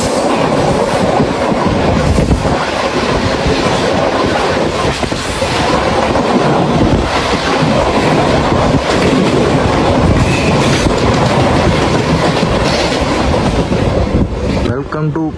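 A MEMU passenger train running on rails between Vizag and Palasa, loud continuous rumble with rhythmic clickety-clack from the wheels, heard from aboard, easing near the end.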